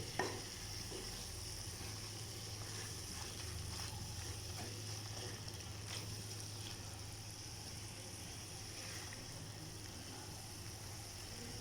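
Beef frying in coconut oil in a clay pot, stirred steadily: a continuous soft sizzle with faint scraping stirs, close and even throughout, no talking.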